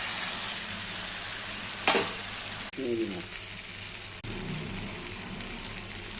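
Mixed vegetables frying in hot oil with a steady close sizzle, a sharp burst as they hit the pan, then a few brief clatters and stirring noises.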